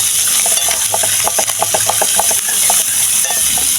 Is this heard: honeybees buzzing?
no